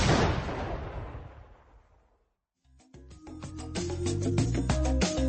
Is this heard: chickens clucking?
no